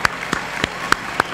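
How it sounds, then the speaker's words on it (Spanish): An audience claps for dancers at a folk music peña on a TV stage, sharp claps punctuating a short, fairly loud stretch of applause. "otro aplauso para los bailarines, la verdad, porque se los merecen los chicos"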